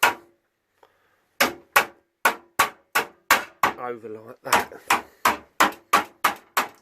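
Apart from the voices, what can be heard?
hammering over metal lip with hammer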